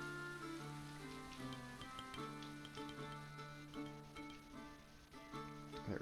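Hail patters during a hailstorm in the medieval colony-building game Going Medieval, soft ticking and rattling drops beneath quiet tonal game music that plays throughout.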